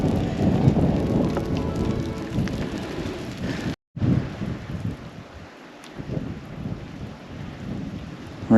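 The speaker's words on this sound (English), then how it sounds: "Raining in the desert." Heavy rain pours steadily in the Mojave Desert at Joshua Tree National Park, with a dense hiss and patter, a brief cut midway, and low rumbling thunder mixed in.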